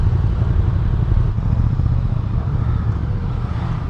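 A 2015 Yamaha MT-09 Tracer motorcycle pulling away under throttle, a loud, steady low engine roar heard close by from the rider's position, without speech.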